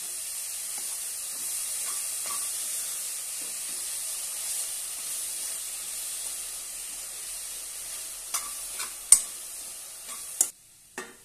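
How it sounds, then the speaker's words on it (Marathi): Finely chopped fenugreek leaves stir-fry with okra in a pan, giving a soft, steady hiss and sizzle, later punctuated by a few sharp scraping knocks of a spatula against the pan; no voices. "मेथी बारीक अशी कट करून घेतलेली आहे ती घालूया आणि छानपैकी परतून घेऊया"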